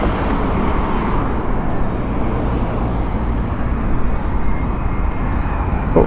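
A Virgin airliner on the Los Angeles flight at Heathrow gives a continuous, fairly loud jet roar at a moderate distance, steady across the whole stretch with no talk.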